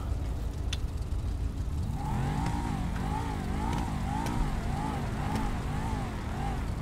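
A car in GTA 5 revs repeatedly in rhythmic waves, the engine note climbing and falling about six times, with faint chatter underneath.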